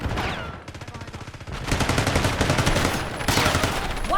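Rapid automatic fire in Black Ops 6 during a fight aboard a bullet train, heard as steady, dense repeating bursts that grow louder partway through, with game noise around them.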